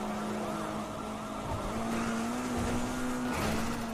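A car in Grand Theft Auto V races through a police chase, the engine droning at a steady high pitch that rises between gear changes, with tyre squeal and skidding under the motor.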